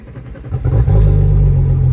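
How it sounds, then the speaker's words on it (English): A boat engine cranks and catches, rising from a low rumble into a loud, steady idle with a throaty, close-up drone that holds to the end. "You'll start the boat."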